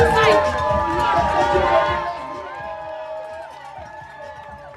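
A festive street crowd at the 2023 Oklahoma City Memorial Marathon roars and cheers, loud at first and then easing off, with a brighter musical or horn-like tone running through the noise.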